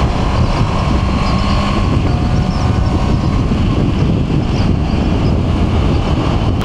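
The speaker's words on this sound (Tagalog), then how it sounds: "Napakalakas ng hangin sa part na to" Strong wind buffets the rider on a Honda CB650R E-Clutch motorcycle, a loud continuous rumbling roar throughout with no talk.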